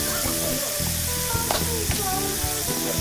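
Red stag meat sizzles on a tribal fire grill, a steady close crackling fry with brief pops and a few short bursts of louder spitting.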